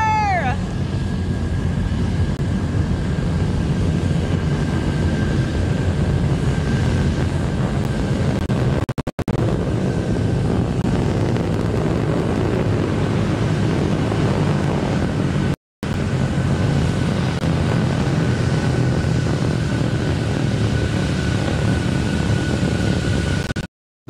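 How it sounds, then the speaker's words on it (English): Relativity Terran 1 rocket launch with nine Aeon engines firing, a loud, continuous broadband roar with rumbling crackle sustained for the whole stretch, briefly cut twice, with no voices. "The rocket launched with no issues, the 9 Eon engines all lit in a synchronized operation."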